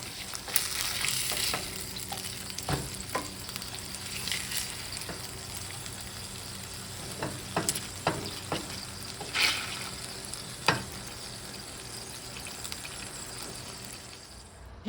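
A burger and bacon cook on a grill with a low steady sizzle, broken by scattered clicks and scrapes from handling, fairly quiet and close with no voices.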